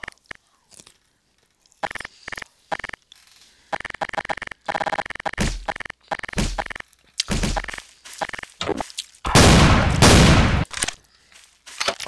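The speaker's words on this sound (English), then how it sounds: "I'm gonna use the sawed off shotgun on all of them." A sawed-off shotgun in the game Garry's Mod, heard as scattered sharp hits and clatters, several short loud blasts in uneven sequence, and a long heavy roaring burst near the end.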